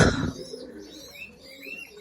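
Soft racer pigeon coos rise and fall nearby, with faint chirps and a muffled thump at the start and end.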